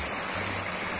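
The Cañabralejo river in Siloé runs swollen after flooding that washed out its bridges, a steady, loud broadband rush of water filling the moment with no pauses and no voices.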